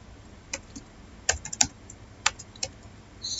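Computer keyboard keys tapped in a quiet room, a handful of sharp clicks spread out with a couple of firmer presses like the enter key, alone with no voices.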